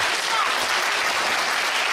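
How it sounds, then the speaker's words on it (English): Crowd clapping at a women's wrestling match between Alisha Edwards and Kennedi Copeland, a dense, loud, sustained wash of applause filling the arena. "she's telling the crowd to stop clapping"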